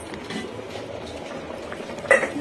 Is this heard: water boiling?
yes